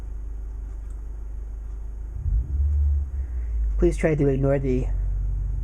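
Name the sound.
truck engine running outside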